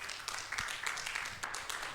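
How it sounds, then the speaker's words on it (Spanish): Church congregation applauding, a faint, distant patter of many hands with a few sharper claps rising briefly out of the soft wash. "¿Cuánto le dan un aplauso al Señor por eso, hermano?"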